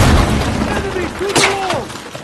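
A wall-breaching explosion in the Battlefield 6 campaign, a booming blast arriving midway through a noisy combat scene, with voices talking over the rumble and debris.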